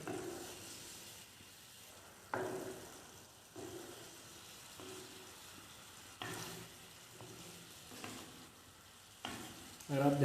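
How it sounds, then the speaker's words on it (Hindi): Sauce cooking in a pan over a low flame, a soft continuous sizzle with periodic stirring scrapes that rise in loudness every second or two. "इसको हम लो फ्लेम पे कुक करेंगे।"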